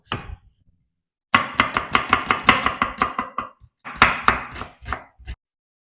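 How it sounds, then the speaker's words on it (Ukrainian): A knife chops an onion rapidly on a cutting board in quick, even bursts of sharp taps, pausing briefly between runs, close and clear with no talking. "Дрібненько нарізаю цибульку."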